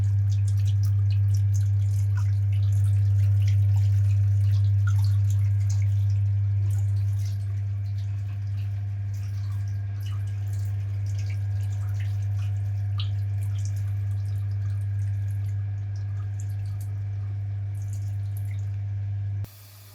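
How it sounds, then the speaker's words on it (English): Hot water runs steadily out of a wort chiller hose while cooling freshly boiled beer wort, a continuous low rushing flow with faint drips and trickles over the full stretch, alone with no talk. "So this is boiling water coming out because it's cooling the wort now."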